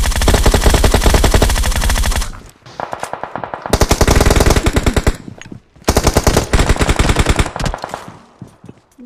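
Loud rapid bursts of automatic gunfire in a video game match, in long sustained volleys separated by short pauses, with sharp echoing tails.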